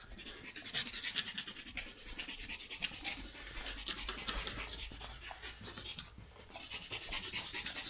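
Dogs panting steadily and close by, a rapid rhythmic breathing that continues for several seconds with a brief dip midway, no talk over it.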